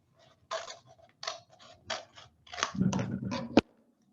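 Scissors snip around a flower pot in a series of short, crisp cuts, ending in a sharper crunching cut and a final click, close and fairly quiet with no talking.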